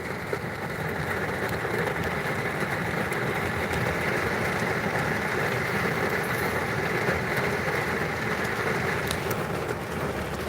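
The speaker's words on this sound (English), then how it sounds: "It's pouring." Heavy rain pours outside in a dense, continuous hiss, a steady loud wash with no pauses across the whole stretch.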